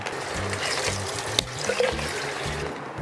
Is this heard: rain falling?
no